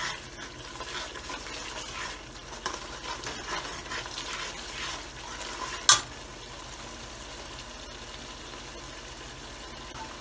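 Masala for beef paya frying in a pot while being stirred, a continuous moderate sizzle with scraping stir strokes and one sharp clatter partway through.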